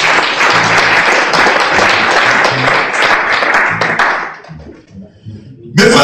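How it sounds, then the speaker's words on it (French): A church congregation claps and applauds loudly for about four seconds during a service, then the clapping thins to a few scattered hand taps before a voice briefly starts up. "Applaudissons un peu Jésus-Christ."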